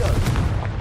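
A Confringo fire spell erupts in Hogwarts Legacy as a short, loud, booming blast with crackling low rumble, close and brief.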